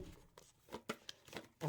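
Tarot cards are shuffled close by in a few quick, quiet riffles and slaps spaced across a brief moment.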